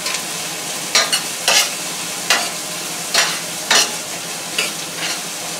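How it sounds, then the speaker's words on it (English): Onions sizzling in a pan, a steady bright fry broken by repeated scraping strokes of a utensil stirring them, about eight close, distinct scrapes with no voices. "our onions have been cooking for 2 minutes"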